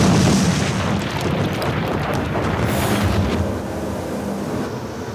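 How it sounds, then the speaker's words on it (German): A blasting explosion in an underground salt mine, breaking rock salt out of the mountain, heard as a deep, loud rumbling roar that trails off into a lower, fading rumble. "wenn sie die dann nachher alle gleichzeitig zünden, dann werden mit einer einzigen Explosion 1600 Tonnen Salz aus dem Berg rausgebrochen"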